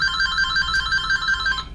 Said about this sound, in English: That's just my phone ringing.